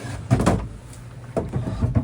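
Wooden dresser drawers slide and knock in two bursts of rattling, scraping movement, close and fairly loud, with no talking.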